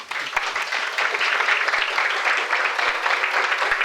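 An audience applauds the translators at a Finnish author's evening event, a dense, even wash of many hands clapping that carries steadily from start to finish at moderate loudness.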